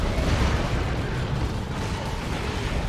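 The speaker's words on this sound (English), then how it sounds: "Plasma Cannon with another good shot." Plasma cannon blasts erupt in a Dawn of War 2 battle between Space Marines and Orks, a dense, continuous roar of explosions and rumbling bursts filling the whole stretch, loud and sustained with no talking over it.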